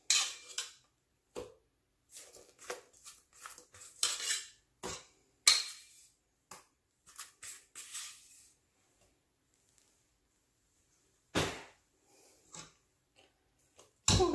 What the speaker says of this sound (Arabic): وغادي نخلط هاد الخليط مزيان حتى يولي عندي خفيف الخليط